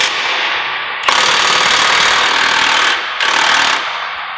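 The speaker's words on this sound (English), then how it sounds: "we're going to loosen the bolt in this pivot point" Steady, loud mechanical hammering noise while a 1⅛ wrench loosens a pivot-point bolt on the CC arm of an ETS SoilWarrior tillage machine, running in two long bursts separated by a brief dip.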